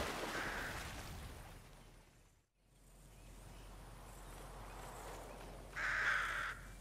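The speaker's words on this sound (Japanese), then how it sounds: "なんかカラスいっぱい飛んできたし" In the Fortnite video game, a flock of crows flies overhead, with caws near the start and again louder near the end over faint game ambience.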